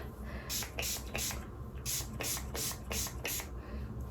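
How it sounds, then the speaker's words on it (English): Several quick hissing spray bursts from a pump bottle spraying hair product onto the scalp, close up, in irregular pairs over a low background hum. "I'm going to go ahead and just spray it onto my scalp on each twist section"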